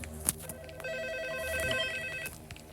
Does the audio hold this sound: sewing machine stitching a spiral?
no